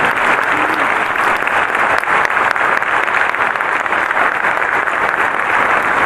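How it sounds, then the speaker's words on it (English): Loud, sustained audience applause fills a hall at an MLK Day 2016 event as Yolanda King and family are honored, a dense steady wash of clapping with no break throughout. "Please stand and give them a round of applause."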